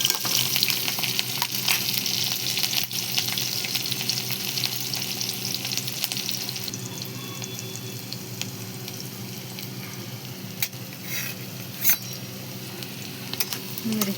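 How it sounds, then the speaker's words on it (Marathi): Green chillies and garlic frying in oil in a wok, a steady close sizzle running throughout with occasional stirring clinks and scrapes. "मिरच्या आणि लसूण मस्त आपण परतून घेऊया."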